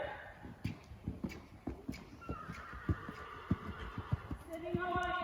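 A horse's hoofbeats during a canter in a riding-training session, a steady, rhythmic run of thudding beats at fairly close range over a faint background hum.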